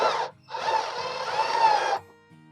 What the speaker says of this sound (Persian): بعد با دریل شارژی میبندم